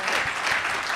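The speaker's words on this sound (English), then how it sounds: "So please give them another round of applause." An audience applauds at a panel event, with dense, steady clapping throughout.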